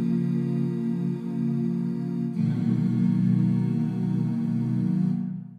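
A vocal sample from a Splice contact plugin plays alone as a sustained, droning sung tone with a low-pitched bed, shifting character midway through and cutting off near the end.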